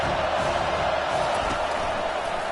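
A stadium crowd in an NCAA college football video game keeps up a continuous, broad roar of cheering, loud and steady with no break.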